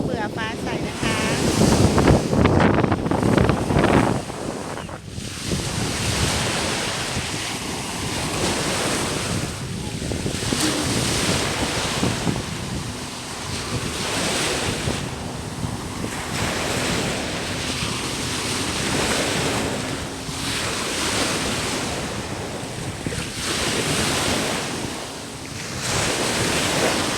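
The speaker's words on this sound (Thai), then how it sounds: "ได้ยินแต่เสียงคลื่นทะเลใช่ไหมคะได้ยินแต่เสียงคลื่นทะเล" Sea waves wash continuously onto a beach, a loud, steady roar of surf with gusts of wind buffeting the microphone throughout.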